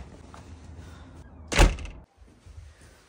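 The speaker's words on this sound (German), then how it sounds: "Schön, dass du mir die Tür aufmachst." A door opened at a home, a single brief loud thunk and rattle of the latch and panel, followed by a short drop to near silence.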